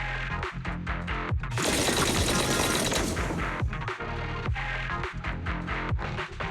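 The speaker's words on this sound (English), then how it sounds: "That was the sound of a heavy cannon?" Heavy booming cannon fire in the video game Zenless Zone Zero, with dense, rumbling blasts and crashing debris, loud and continuous, with a sustained roaring barrage in the middle.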